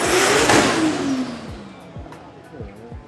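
Cars revving and accelerating in the pits on practice day at Souped Up Thailand 2019, a loud engine rising and sweeping past early, then several fainter passes with background voices.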